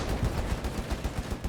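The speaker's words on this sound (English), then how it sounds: "50 cal joining in again." A .50 cal heavy machine gun fires in Company of Heroes 3, a steady rapid stream of shots at moderate distance, running the whole time and mixed with other battle noise.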